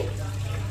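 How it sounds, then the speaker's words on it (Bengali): Water from boiled chickpeas pours off in a steady running gush, close and continuous throughout, with a low hum beneath. "জল ঝরিয়ে নিচ্ছি।"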